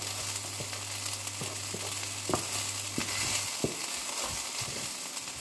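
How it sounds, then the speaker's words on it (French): Paella simmers in a pan, a soft, steady frying sizzle with small crackles and a few light taps, fairly quiet and heard on its own. "on va laisser mijoter tout simplement notre paella"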